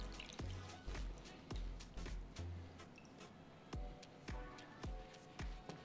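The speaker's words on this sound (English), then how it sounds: "we're just gonna grab these out of the brine, gonna dry them off" Brined chicken wings lifted out of their brine, dripping into liquid: a series of close, distinct drips and splashes at uneven intervals, about a dozen over several seconds, with no talk.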